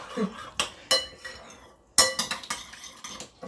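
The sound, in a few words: stirring butternut squash seeds in olive oil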